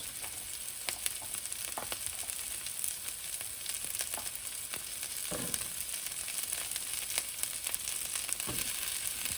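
Green beans, cabbage and bok choy stems sizzle in a wok for tandoori chicken chow mein, a loud, steady frying hiss with occasional stirring scrapes and ticks, close up and with no voices.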